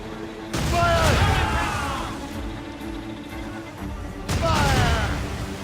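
Ship cannons fire in Assassin's Creed Rogue, two heavy booming broadside volleys about four seconds apart, each a loud crackling burst that rolls off into a long rumbling tail, with crew shouting under the blasts.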